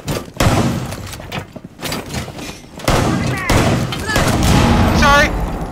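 Bursts of gunfire ring out in a Rainbow Six Siege match, with repeated loud cracks and thuds in quick clusters, mixed with game effects and a voice talking throughout.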